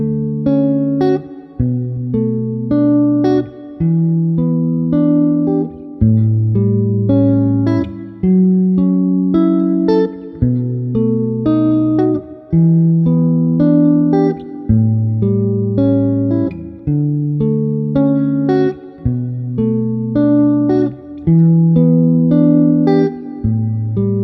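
Acoustic guitar strumming the verse chord progression of a song, steady rhythmic strums with clear shifting bass notes, loud and close, played alone without any voice.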